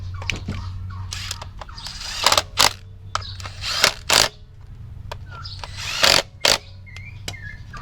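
Ratchet tightening 10mm bolts on a Toyota Wigo engine during a spark plug replacement, close-up metallic clicks and short tool bursts over a low engine-bay hum.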